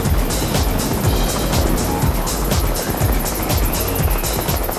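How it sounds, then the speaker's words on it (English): Inside a helicopter cabin flown with the doors off, the machine roars loudly and continuously, with a rapid rhythmic rotor chop pulsing through a heavy engine drone. "Filming inside a helicopter can get pretty intense. You've got the noise of the machine"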